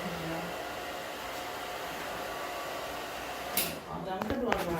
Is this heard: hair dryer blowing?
yes